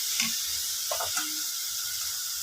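Onions and tomatoes sauté for prawn thokku, giving a steady, even sizzle with a bright hiss throughout and a few faint clicks and scrapes.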